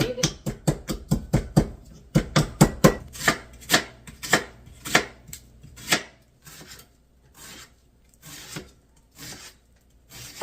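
Garlic crushed with salt under a blade or press gives a fast run of sharp, close thuds and grinding scrapes that slow and soften into sparser strokes.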